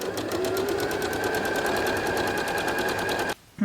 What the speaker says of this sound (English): I am going to sew from this corner to this corner